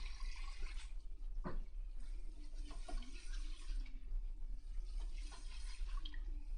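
Tap water runs steadily into a salon shampoo sink as shampooed hair is rinsed, a continuous close splashing wash with a few brief knocks and shifts in the flow.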